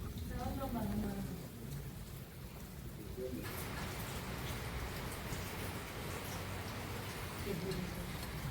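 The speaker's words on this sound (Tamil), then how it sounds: "ஃபுல்லாக மழை பெஞ்சிட்டு இருக்கு" Heavy rain pours down steadily at a Murugan temple, a soft continuous hiss of drops on the surfaces, heard faintly at a distance.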